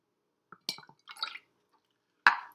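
Cold water, about 100 milliliters at a time, is poured into an insulated calorimetry vessel in a lab. It comes as a few short, close splashes and drips separated by silence, ending with one brighter splash.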